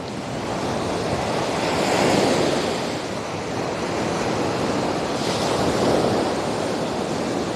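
Ocean waves rolling onto the shore on a humid day, a continuous loud wash of surf that swells and recedes in broad surges, with wind buffeting the microphone and no voices.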